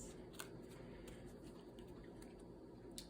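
Cards being shuffled, soft papery riffling and light taps over a low steady hum, quiet and close.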